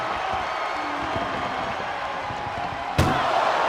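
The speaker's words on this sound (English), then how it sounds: "trying to force the first door closed" A sharp slam cuts through steady arena crowd roar as an ambulance door is forced shut during a WWE Raw ambulance match, one loud impact near the end over continuous cheering.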